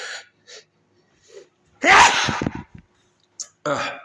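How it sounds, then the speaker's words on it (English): A person gasps softly a few times, then lets out a loud, close sneeze, followed by another short burst of breathy exhalation. "I'm trying not to sneeze."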